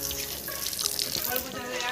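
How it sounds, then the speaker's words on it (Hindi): Water running steadily from a tap on a railway station platform in Jharkhand, a continuous close splashing flow heard alone. "यहाँ पे नल का सुविधा भी है, पानी वगैरह हम लोग पी लिए।"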